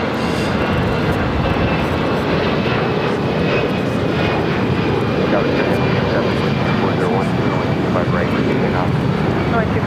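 Airliner engines at LAX, including an Airbus A340 and A380, produce a loud, constant jet roar and whine that fills the whole stretch, with voices talking underneath.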